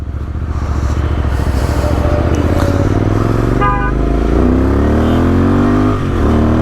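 A Royal Enfield Interceptor 650 fitted with an S&S camshaft revs loudly and pulls away, its twin-cylinder exhaust note climbing steadily in pitch through the gears, close and unbroken by speech.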